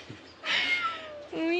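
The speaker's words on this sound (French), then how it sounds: "Ça n'arrête pas de miauler." A cat meows twice, first in a long drawn-out call and then in a shorter rising one, fairly close and clear against a quiet background.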